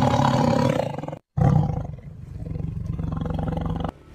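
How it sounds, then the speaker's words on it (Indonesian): A tiger roars in a horror story set on a hiking trail on Gunung Lawu, with deep, rumbling, close bellows, a brief silent break, then a long sustained growl that cuts off abruptly. "dia mendengar ada suara raungan macan."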